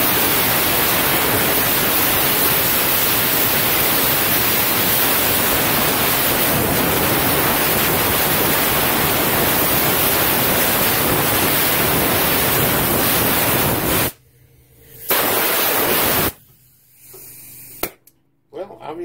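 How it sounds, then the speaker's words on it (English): An air hose blasts compressed air to blow years of body dust out of a 1978 Mercury Zephyr. A loud, continuous broadband hiss fills about fourteen seconds, then drops away and returns in short bursts with gaps between them. "take the air hose and blow out 7 or 8 years worth of body dust"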